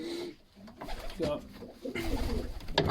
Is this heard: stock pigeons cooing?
yes